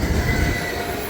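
A CSX mixed freight train passes with Pan Am boxcars in tow, giving a brief, loud, steady rumble with faint metallic squeal from the wheels.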